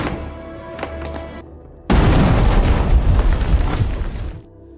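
A loud, booming grenade blast in an action film erupts suddenly after a quieter stretch, its broad roar sustained for a few seconds before fading to a low rumble.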